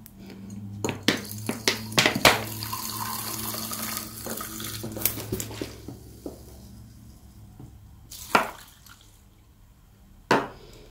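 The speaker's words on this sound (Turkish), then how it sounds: "Turşularımızın üzerine kaynatılmış su ilave edelim." Boiled water poured over cucumber pickles in glass jars, a gurgling splash of pouring with a few sharp clinks of glass against glass, then quieter pauses between pours.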